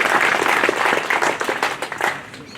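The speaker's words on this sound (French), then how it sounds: "ça s'applaudit" An audience at a Croatian national day celebration breaks into applause, a busy wash of clapping that is fairly loud at first and gradually thins toward the end.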